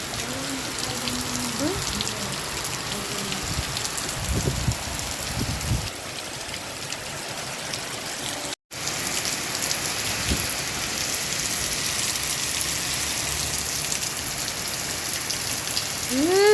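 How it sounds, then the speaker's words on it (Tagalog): Heavy typhoon rain pours steadily with wind, a dense wash of drops drumming on surfaces, with a brief dropout midway and faint low rumbles beneath. "Malakas ang ulan. Pati hangin."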